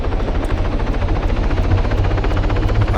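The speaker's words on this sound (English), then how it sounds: "they're now running for the chopper on their move waypoint" Helicopter in the video game Arma 3, a steady close rotor chop with rapid rhythmic beating and engine whine, loud and continuous throughout.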